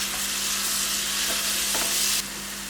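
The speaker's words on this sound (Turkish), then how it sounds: "Şimdi soğanları iyice kavuracağım." Onions fry in a pan with tomato paste, cumin and ground pepper, making a loud continuous sizzle with a few stirring scrapes. Near the end the sizzle drops suddenly to a lower level.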